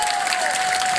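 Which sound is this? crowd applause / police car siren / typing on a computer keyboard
crowd applause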